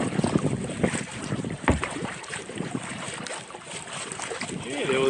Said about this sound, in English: So I'm paddling for a couple of hours now.